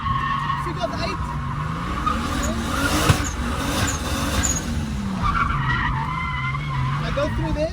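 A Nissan 350Z drifting around cars and a pole on a figure-eight course, tires squealing in long wavering skids over a steady engine drone, with occasional voices in the background.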